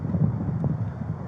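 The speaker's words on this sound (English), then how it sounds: "It's really hard to hear out here with this wind." Wind blowing outdoors during a police encounter, a steady low rumbling buffet across the microphone, continuous and fairly loud throughout the brief moment.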